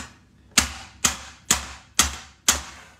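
Five sharp, evenly spaced knocks of a cake mould filled with hazelnut batter tapped against a hard counter to level it, each ringing briefly before the next.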